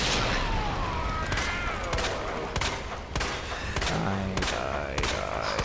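A grenade blast and a rapid stream of gunfire in Resident Evil 2, dense repeated loud shots and thuds filling the whole stretch with no pauses.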